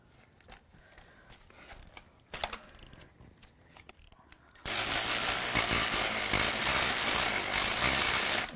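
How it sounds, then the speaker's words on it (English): A worn-out ratchet cranks on bolts during a Gen2 LT1 350 engine teardown, quiet sporadic clicking at first, then a loud, dense continuous mechanical rattling over the last few seconds. "It seems like my ratchet is dying here."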